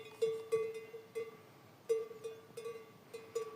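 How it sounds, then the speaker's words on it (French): Bells worn by horses on a countryside walk, clanking in irregular metallic bursts with a steady ringing tone, moderately near, with no talk over them. "On ne voit pas souvent des chevaux avec des cloches,"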